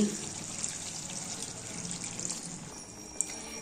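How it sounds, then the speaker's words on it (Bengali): Water pours steadily into a pan of korma, a continuous close splashing stream lasting a few seconds with no talk. "কষানোর জন্য পরিমাণ মতন জল দিয়ে দিচ্ছি।"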